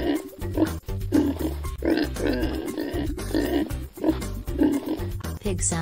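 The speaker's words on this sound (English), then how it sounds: "Pig sounds oink." Pig grunts and oinks repeat in short bursts over a bouncy children's sing-along tune, with the music running steadily underneath.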